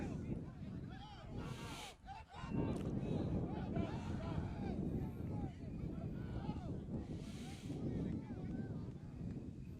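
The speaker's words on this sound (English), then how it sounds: "The wind is blowing directly in the face of the punter" Wind gusts across an outdoor football field during a game, a constant rough rumble buffeting the microphone, with voices faintly underneath.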